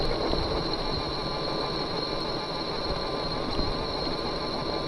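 Steady electric motor whine and drivetrain hum from a Biktrix Little Red Rock e-bike climbing a steep hill in second gear, with constant road and wind noise, close and unbroken.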